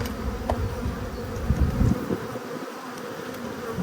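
Buckfast honeybees hum in a dense, continuous buzz close by at a hive with supers, many insects droning together at a steady level.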